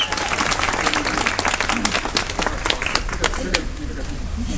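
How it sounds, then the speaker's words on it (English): A live-streamed public meeting audience breaks into steady applause, dense clapping sustained at even loudness throughout with a faint murmur of voices beneath. "So, round of applause for Jan."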